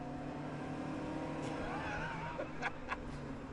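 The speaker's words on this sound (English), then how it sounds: "There's a fair bit of period turbo lag, as you can hear." A video game car engine drones steadily with a tonal whine that rises and sweeps, then a few sharp bursts and pops near the end, like a turbo spooling up with period turbo lag.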